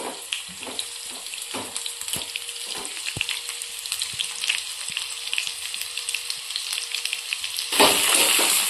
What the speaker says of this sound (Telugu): ఈ ఆనియన్స్ని ఇలా పక్కకు అనేసి పోపు దినుసులు వేస్తున్నాం